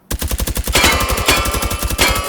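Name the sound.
MP5 submachine gun firing in Hot Dogs, Horseshoes and Hand Grenades video game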